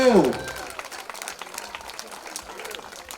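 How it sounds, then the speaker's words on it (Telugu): Scattered, thin hand clapping from a congregation at a church candle light service, loose and uneven, following a brief voice at the start and fading to sparse claps. "అమ్మా చప్పట్లు చప్పచప్పగా ఉన్నాయి చప్పట్లు"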